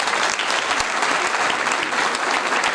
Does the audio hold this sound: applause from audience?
yes